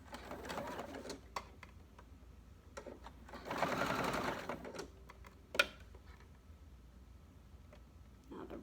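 A sewing machine stitches across a t-shirt being made into a pillow, running in a few close bursts of rapid mechanical chatter between pauses, with faint clicks and handling noise.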